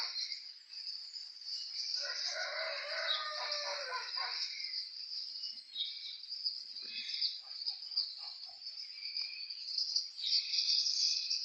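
Starlings sing near a small roadside chapel in autumn, a continuous high chattering, whistling chorus with bursts of clicks and warbles, fairly close and steady throughout, with no voices.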